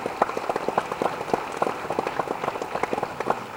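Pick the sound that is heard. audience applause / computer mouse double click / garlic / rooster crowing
audience applause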